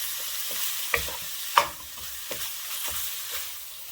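Ground beef, an 80-20 chuck, browning in a pan, with a continuous sizzle broken by a few sharp clicks and scrapes of stirring, close and clear with no talking.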